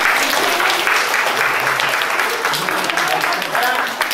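Sustained applause from a crowd at a children's Easter gathering in the French village of Landepéreuse, honouring the festival committee; dense, steady clapping fills the whole stretch with faint voices mixed in.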